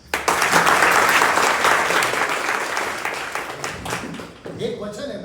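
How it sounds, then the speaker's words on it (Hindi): Loud applause from a seminar audience in Kheragarh, Chhattisgarh, a dense burst of clapping that swells quickly, holds steady, then thins out as a voice comes in near the end. "इनके लिए ताली हो जाए।"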